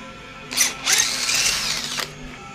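A power drill bores a quarter-inch hole in a part for a 1/14-scale lowboy semi trailer, with a brief whine, a short pause, then a longer steady burst lasting about a second, close and clear.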